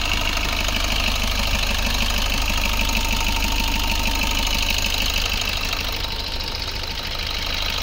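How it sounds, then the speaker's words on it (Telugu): A 2017 Maruti Suzuki Swift Dzire VDI diesel engine idles close by with a steady, even knocking chatter and a low rumble that holds without change, no voices over it. "ఇంజన్ సౌండ్ ఎంత నీట్గా ఉందో."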